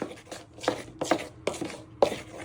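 A spoon stirs baking powder into self-raising flour and cocoa in a bowl, giving a handful of soft scraping, knocking strokes in an uneven rhythm, close up with no talk.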